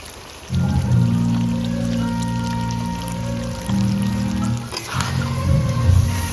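A little water is poured into a pan of long-marinated chicken during cooking, making a steady trickle over a droning hum. The flow breaks off briefly midway and then resumes.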